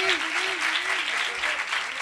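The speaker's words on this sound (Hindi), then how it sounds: "अपने लिए तालियां बजाएं।" A church congregation at a live sermon in Sargodha claps together in a loud, dense burst of applause, with a voice carrying over the clapping throughout.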